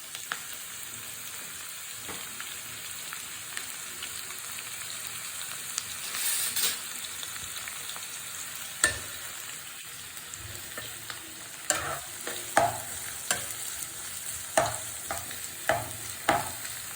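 Onions fry with spices in a pan, a faint steady sizzle with intermittent sharp clinks and scrapes of stirring that grow more frequent toward the end, with no voices.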